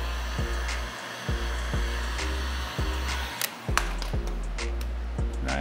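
A heat gun warming vinyl wrap blows a steady, close airflow hiss, broken by a regular series of sharp clicks or taps roughly every second.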